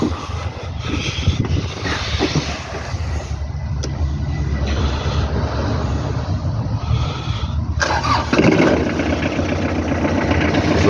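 A Kubota GT3 tractor engine runs steadily at close range in a continuous mechanical drone, with some clatter and a louder swell near the end.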